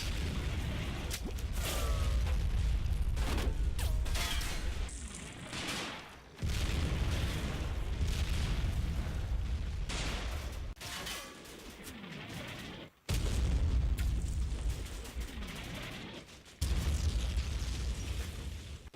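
81mm mortar rounds land in the Combat Mission: Final Blitzkrieg war game, a run of loud, close, rumbling blasts and bursts that roll into one another, with brief breaks between some of the impacts.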